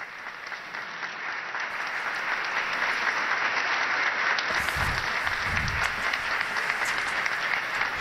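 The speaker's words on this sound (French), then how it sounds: "salué par les applaudissements de ceux qui sont ses collaborateurs" Sustained applause from Pope Francis's collaborators of the Roman Curia during his Christmas greetings, a steady wash of many hands clapping in a large hall, even and continuous throughout, with a few low thumps partway through.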